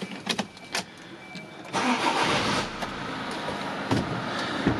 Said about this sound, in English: I'll just jump in the car and start her up so you can hear the